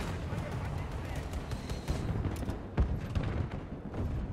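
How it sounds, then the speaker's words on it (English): A T-14 Armata tank lays down cover fire in Battlefield 2042, with dense, rumbling gunfire and one heavy blast near the middle, under a voice talking over the combat. "Just gotta keep laying down cover fire."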